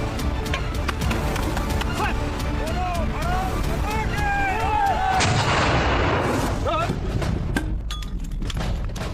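Repeated booms of BSF range firing with 81 mm and 51 mm mortars, medium machine guns, grenade launchers, rocket launchers and rifle grenades, sharp reports going off again and again over continuous talk.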